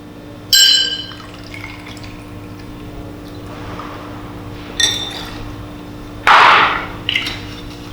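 Tonic water is poured into a glass of gin for a gin and tonic, giving short splashing fill bursts with faint clinks over a steady low hum, without talk.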